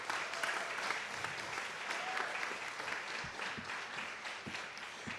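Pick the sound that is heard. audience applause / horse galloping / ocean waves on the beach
audience applause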